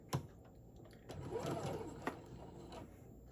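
A sewing machine stitches the body pieces of a teddy bear together in a short, faint run of mechanical whirring between a couple of sharp clicks.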